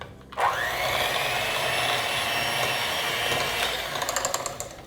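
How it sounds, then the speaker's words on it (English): Electric hand mixer creaming coconut oil with white granulated sugar in a home kitchen, a steady loud motor whir running almost continuously after a quick start, with a few rattling pulses near the end. "with a mixer, or you could use your whisk, I'm gonna cream these together"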